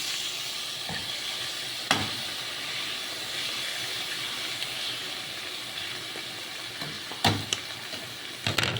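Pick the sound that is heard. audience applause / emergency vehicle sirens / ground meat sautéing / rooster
ground meat sautéing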